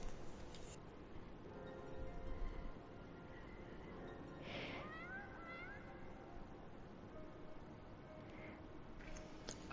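A cat in the video game Final Fantasy XIV gives a single clear meow midway, over a low hum of ambient game sound. A fainter mew follows near the end.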